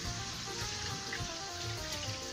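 Water poured into a pot of haleem on the stove, a steady broadband splashing and rushing pour lasting throughout, close and fairly loud with no talking.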